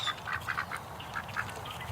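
A pair of small ducks quack in short, soft bursts, a few calls spaced across a moment, faint and close against a low rumble of outdoor background.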